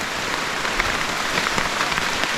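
Heavy rain pours steadily in the Amazon rainforest of Peru, a dense, continuous hiss of drops drumming on surfaces close by, with no voices.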